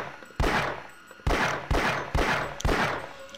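Gunfire aimed at headcrabs in the game Half-Life: Source: five loud, close shots at uneven intervals, each a sharp crack followed by a long, ringing decay, with no talking.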